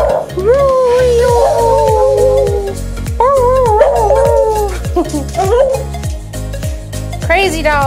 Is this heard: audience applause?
no